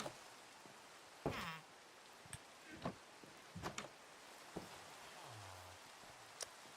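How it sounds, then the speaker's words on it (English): Steady rain falls in the Minecraft video game, a soft constant hiss broken by a few scattered ticks and brief pops, with no voices. "Rain!"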